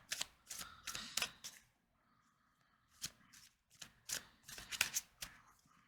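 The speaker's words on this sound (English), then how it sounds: "Alright, one more shuffle." Tarot cards are shuffled in several quick riffling bursts close up, separated by brief pauses and soft handling noises.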